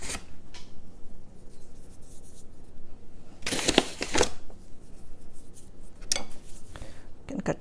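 A knife slices homemade spinach pasta dough into thin strips, giving soft scraping cuts in two short bursts near the middle and later, over quiet room noise.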